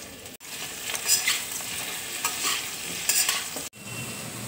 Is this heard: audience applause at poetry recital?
no